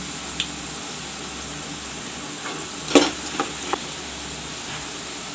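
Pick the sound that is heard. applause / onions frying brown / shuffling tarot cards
onions frying brown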